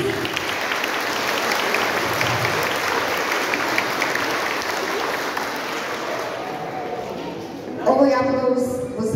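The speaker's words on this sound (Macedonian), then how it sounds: "Да ги поздравим още еднаш с гръмогласен аплауз" Loud, sustained applause from a kindergarten graduation audience fills the hall for about eight seconds, then fades as a voice begins speaking near the end.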